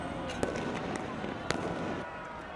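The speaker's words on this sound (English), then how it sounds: "Explosive flashbangs and clouds of tear gas filled downtown LA last night" Loud blasts from explosive flashbangs going off during a downtown Los Angeles street protest, two sharp bangs standing out over a dense, continuous crowd roar and scattered shouting.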